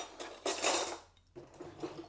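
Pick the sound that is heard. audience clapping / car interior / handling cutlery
handling cutlery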